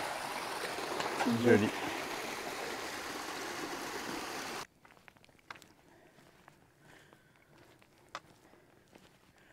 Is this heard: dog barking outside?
no